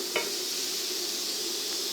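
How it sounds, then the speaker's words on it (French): Onions sweat in a pan for lentils with bacon, making a soft, even hiss with a single faint utensil tap near the start and no voices. "On va faire suinter nos oignons. Et on va les faire blanchir un petit peu."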